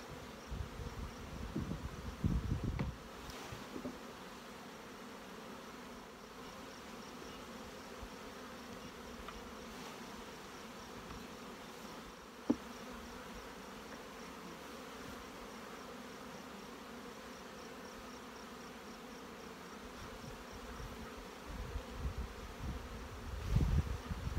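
Honey bees hum in a steady, faint buzz around an open hive during a hive split, with soft handling knocks near the start and end.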